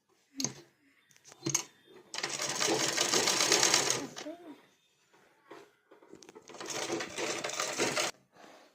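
A sewing machine stitches piping onto a blouse in two loud bursts of steady rapid running, separated by quieter handling noises and short pauses.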